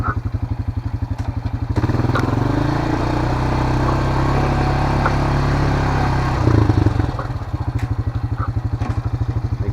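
A motorcycle engine idles with a steady low putter, then revs and rides off across a rural home property, the engine holding a loud, even drone before settling back to a rhythmic idle; no talking.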